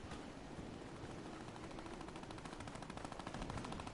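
Rapid automatic gunfire from a shooting video game, a dense continuous rattle of shots that grows slightly louder toward the end, with no talking.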